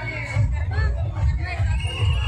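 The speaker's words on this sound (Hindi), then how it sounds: "भाई अच्छी खासी भीड़ है यहाँ पे पूरा मेला वगैरह भरा हुआ है" Dense crowd babble at the Dol Gyaras fair in Baran, Rajasthan, with overlapping voices and shouts forming a loud, continuous hubbub close by.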